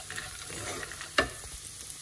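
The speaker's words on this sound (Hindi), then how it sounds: "उसको अब इसमें डालेंगे और सारे मसालों को मिक्स करेंगे इसके साथ, और 1 मिनट तक लो फ्लेम में इसको स्टिर करते ही रहेंगे" Roasted peanuts and spices are stirred in a pan over a low flame, with a soft frying hiss under light scraping and one sharper scrape midway, close and quiet, with no voices.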